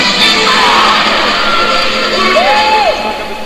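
An arena crowd at a weightlifting world championship cheers and yells steadily as North Korean lifter Kim Kwan-song walks out for his snatch attempt, a loud, sustained roar with a few whistles rising above it.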